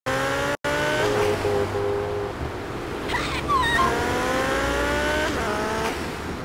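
A motorbike engine whines and shifts pitch through gear changes while being ridden in GTA Vice City, steady and close with a brief cut near the start and a squeal midway.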